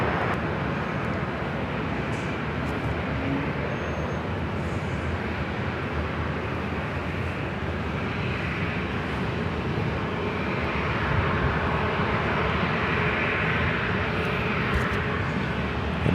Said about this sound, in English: This is Delta Airlines Flight 2120 heading to Las Vegas in the 737-800.